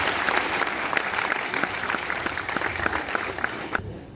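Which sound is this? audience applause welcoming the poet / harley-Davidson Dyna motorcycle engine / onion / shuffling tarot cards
audience applause welcoming the poet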